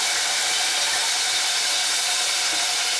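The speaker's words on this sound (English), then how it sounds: "And now I add my mixed vegetables." Mixed vegetables hit a hot pan of roasting spices such as cardamom, giving a loud, steady sizzling hiss that fills the whole moment, with no talking.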